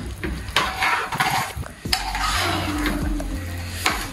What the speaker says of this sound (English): Stir this in a bit, guys